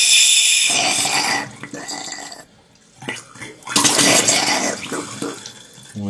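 Water sputters and spits through pressurised toilet pipes in an abandoned house being renovated, coming in loud, irregular bursts that break off into short pauses before gushing again, close up and with no talking.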